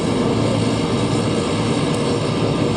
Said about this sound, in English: Everybody's starting the engine and getting on the runway,